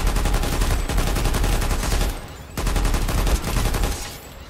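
TR light machine gun in a video game firing two sustained full-auto bursts, loud, close and rapid, with a brief pause between them.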